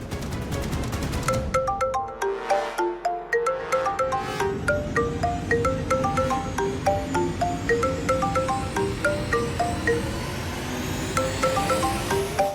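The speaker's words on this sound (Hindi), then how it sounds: "हमको कौन फोन कर रहा होगा?" A melodic phone ringtone plays loudly for an incoming call, a repeating pattern of bright electronic notes running steadily throughout.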